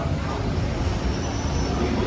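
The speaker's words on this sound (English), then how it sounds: "Welcome aboard the Disneyland monorail." Steady low rumble inside the Disneyland monorail while riding, a constant, fairly loud rolling drone with no distinct breaks.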